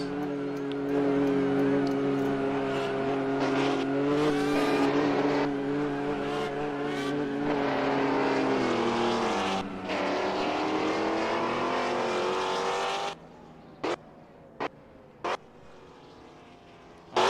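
A McLaren F1 GT1 race car in Golf livery screams past during a historic GT1 feature race, its loud engine note rising and falling in pitch for about thirteen seconds before cutting away, leaving quieter track ambience with a few sharp clicks.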